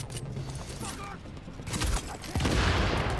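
Rapid bursts of suppressed gunfire from a rifle in Tom Clancy's The Division, loud muffled shots in a flurry, with a voice speaking between bursts and game sounds behind.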